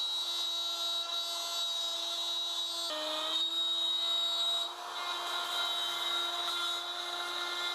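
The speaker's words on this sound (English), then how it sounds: "now I've put a 3/8 bit into the router, and that'll just shrink my mortise down 1/8 of an inch" A router fitted with a 3/8 bit cutting a mortise in a door for multipoint hardware, giving a loud, steady, high motor whine close by that dips in pitch briefly under load before settling again.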